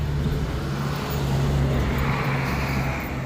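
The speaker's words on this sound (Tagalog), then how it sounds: "Dahan-dahan lang yung mga sasakyan." Cars move slowly along a foggy road in Dammam, Saudi Arabia, making a continuous low hum of engines and tyres that holds steady throughout.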